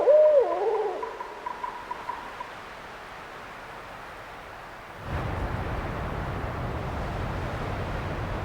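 An owl gives a brief hoot right at the start, fairly close, then quiet ambience follows, with a louder rushing wind-like noise rising in the later half.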